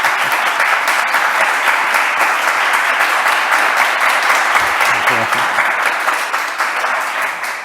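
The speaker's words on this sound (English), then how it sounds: "a round of applause for those 6 finalists" Loud, sustained applause from an audience in a room for six startup finalists, steady clapping throughout that thins slightly toward the end.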